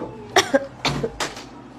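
Three short, rough coughs in quick succession, close and fairly loud.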